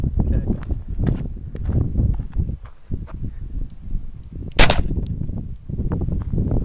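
Sharp gunshot cracks from a KelTec Sub 2000 .40 Glock-version pistol-caliber carbine stand out amid shuffling, bumping handling noise, with one bright loud report near the middle.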